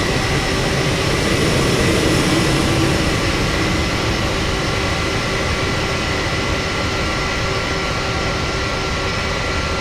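Boeing 707-320C jet engines in Microsoft Flight Simulator 2024 roar in a dense, constant whine and rumble, loud and unbroken throughout with no talking.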